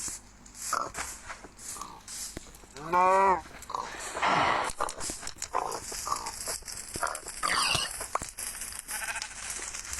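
Cow moos and other farm animal calls in the video game Master Craft, a few distinct bleating, mooing bursts over game sounds while a person talks faintly in the background.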